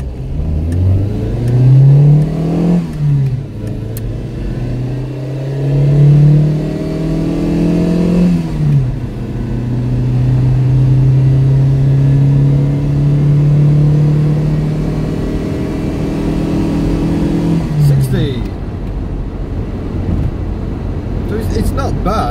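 A cheap £200 car accelerating hard through the gears, its engine note climbing steadily in pitch, dropping at each shift, then rising again, loud and close with a voice speaking over it.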